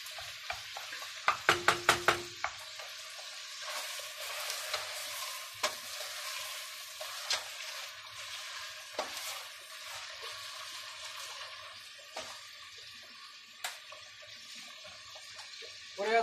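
Chopped onions fry in a pan with a faint, steady sizzle, broken by a quick burst of metallic spoon clinks against the pan and scattered stirring scrapes and taps.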